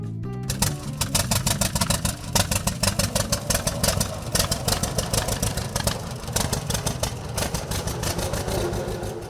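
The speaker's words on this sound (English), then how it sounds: "This is a 1929 D John Deere on full steel." A 1929 John Deere D tractor on full steel wheels runs its engine, a loud, close, steady rapid chugging with evenly spaced pulses throughout.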